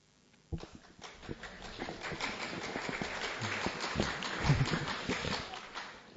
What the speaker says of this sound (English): I've got one person clapping